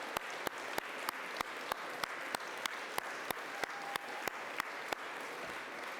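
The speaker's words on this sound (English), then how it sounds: "Let's end this spectacular night with one last round of applause for our incredible 2023 winners" Steady, evenly spaced claps ring out at a brisk rhythm over a soft room murmur as an awards-night audience honours its 2023 winners; the claps are fairly faint and distant, with no voices in the clip.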